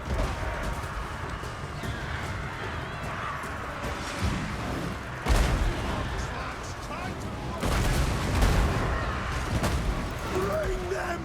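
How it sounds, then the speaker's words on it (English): Cannon fire in a fantasy video game battle against greenskins with dwarf forces: heavy booming blasts burst out over a dense roaring din of combat, with excited talking over it. "Cannon!"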